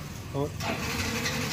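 Yamaha FZ motorcycle engine cranking on the electric starter and catching, a short close burst settling into a steady idle under a man's speech.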